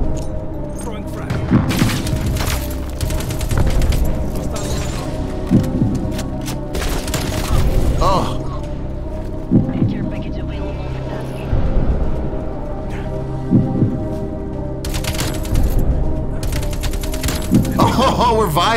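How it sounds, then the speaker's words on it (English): Artillery strike explosions in Call of Duty Black Ops Cold War land as repeated heavy booms amid a dense rattle of gunfire, with a player talking over much of the action. "Hostile artillery targeting active. Incoming artillery."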